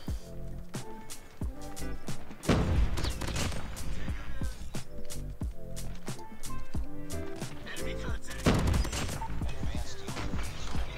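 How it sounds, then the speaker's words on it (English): Rapid gunfire in Call of Duty Mobile, aimed at a sentry gun, comes as bursts of sharp cracks and impacts. It falls in two heavier clusters with scattered shots between them, and faint speech sits underneath. "Can I shoot down that sentry gun real quick?"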